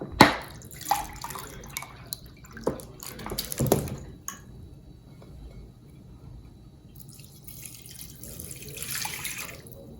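About two and a half cups of water poured onto sea moss for a gel, splashing and trickling in several bursts at first, then settling into a softer, quieter flow with occasional drips.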